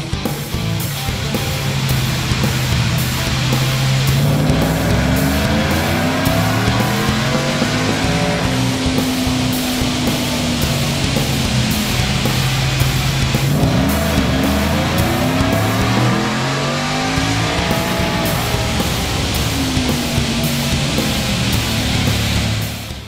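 A supercharged 2022 Ford F150 with a 5.0L V8, a ProCharger and a 4.0 pulley roars through repeated dyno pulls; the engine note climbs steadily, drops back and climbs again, loud and close throughout.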